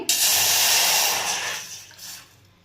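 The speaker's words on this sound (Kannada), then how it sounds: "ಈಗ ಟೀ ಪಾತ್ರೆಗೆ ನಾನಿಲ್ಲಿ ಒಂದು ಕಪ್ಪಷ್ಟು ವಾಟರ್ನ ಆ್ಯಡ್ ಮಾಡ್ತಾ ಇದ್ದೀನಿ" A steady, bright hiss of about a cup of water pouring into a tea pot, loud at first and then tapering off, with a brief splash near the end; no voices.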